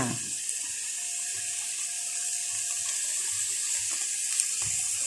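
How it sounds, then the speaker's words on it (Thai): Thick coconut cream poured into a pot of spicy Thai red curry with pork and eggplant gives a steady, close watery pouring hiss that runs the whole time, with a few faint clinks and no voices. "น้ำหัวกะทิลงไปอีกรอบจ้า"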